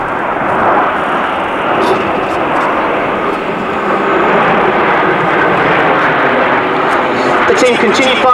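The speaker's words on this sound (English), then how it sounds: "the aircraft you see at the moment, the British Aerospace Hawk" A British Aerospace Hawk jet flies at an airshow, a loud, sustained engine roar that swells slightly toward the end, under continuous commentary from an announcer.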